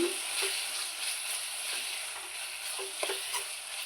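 Chilli powder is stirred into pirandai chutney in a pan, a soft sizzle under a few light scraping strokes of a spoon, fairly quiet and close, with no voice.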